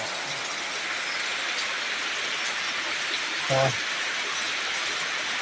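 Steady rain falls at night during a power cut, a dense, unbroken hiss that stays even throughout, with a brief low thump near the end.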